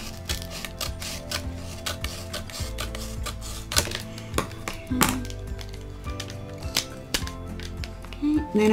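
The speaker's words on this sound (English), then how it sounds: "Next, I'm just going to get my scissors." Scissors snipping through adhesive vinyl on transfer tape during a Cricut craft project, giving a run of quick close crisp cuts and rubbing sounds with irregular rhythm, alone without talk.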